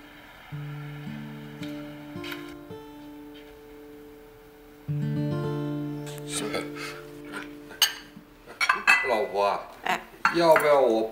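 Bowls and chopsticks cleared from a table after a family meal, with dish and cutlery clinks growing busier and louder toward the end, over a steady tonal background and some talk.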